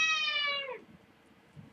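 A pet cat meows once indoors, a clear drawn-out close meow that falls away, followed by faint rustling and a soft second sound.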